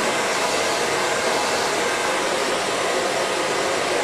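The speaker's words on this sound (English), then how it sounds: "Finally, we lift the hair up to the ceiling and blow dry the underneath of the section." A hair dryer blows continuously and loudly at close range while drying the underside of a lifted section of hair, a steady, unbroken rushing whoosh with no talking.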